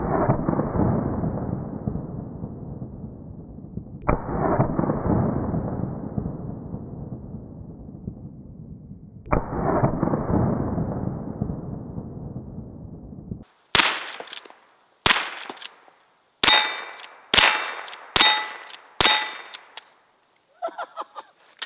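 A lever-action .22 long rifle fires at outdoor targets: three sharp cracks with long ringing decay come first, then a quicker run of about six shots with metallic target clangs, all loud and close with no talking.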